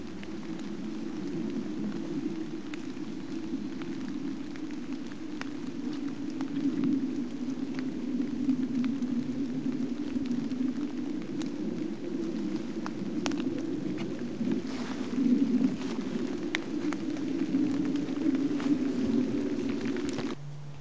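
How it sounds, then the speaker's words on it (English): Steady rain falls on a tipi in the countryside, a constant close hiss and patter with slight swells in intensity and no voices. "It don't stop raining for 24 hours."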